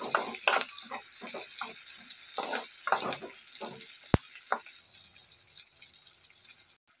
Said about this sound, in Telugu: ఇది ఇప్పుడు ఇలా ఫ్రై అవుతుంది.